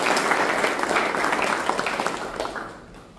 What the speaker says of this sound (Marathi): आपण सर्वांनी एकदाच जोरदार टाळ्या वाजवून सगळ्यांनी स्वागत करायचं